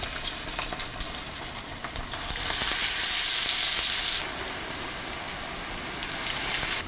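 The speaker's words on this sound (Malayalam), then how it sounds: "എണ്ണ നന്നായി ചൂടായി കഴിയുമ്പോൾ മാരിനേറ്റ് ചെയ്ത് വെച്ചിരിക്കുന്ന കോളിഫ്ലവർ ഓരോന്നായി ഇതിലോട്ടിട്ട് വറുത്തെടുക്കണം" Marinated cauliflower pieces deep-frying in hot oil give a steady, dense crackling sizzle that swells louder for a few seconds and then settles back into a constant bubbling hiss.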